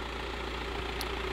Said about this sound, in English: You have to excuse the noise of the engine.